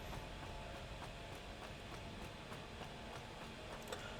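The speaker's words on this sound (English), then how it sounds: "let me turn on the train power and see if I can," Steady rumbling clickety-clack of a train running on laid tracks in the factory-building video game Satisfactory, a continuous even rolling drone with faint regular ticks, moderately distant and without talk.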